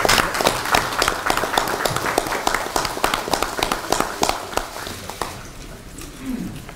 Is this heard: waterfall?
no